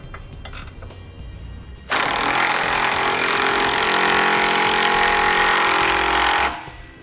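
An impact wrench or ratcheting tool with a 19mm socket tightens hardware on a vehicle base plate, a loud, continuous buzzing rattle lasting about four and a half seconds after quieter clinking, then stopping.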